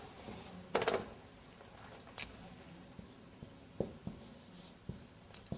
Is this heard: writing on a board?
yes